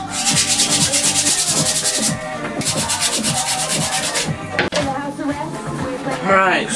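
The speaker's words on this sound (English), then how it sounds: "it's all sanded up to 320 grit" MDF is being sanded smooth up to 320 grit by hand, giving loud, close, steady rhythmic rasping strokes in a repeated back-and-forth pattern with a brief pause partway through.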